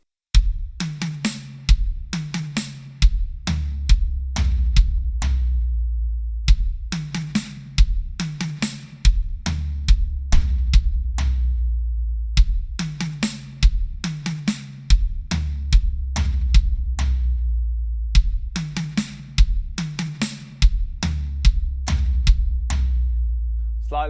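Drum kit triplet fill across bass drum, medium tom and floor tom, played several times in a row with short pauses between. Each pass is a loud, punchy run of close strikes.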